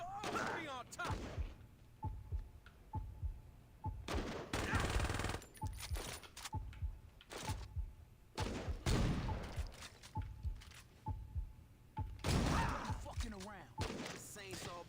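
Repeated bursts of gunfire from the Saints Row video game, loud clustered volleys recurring every second or two amid game sounds, with a voice talking between them.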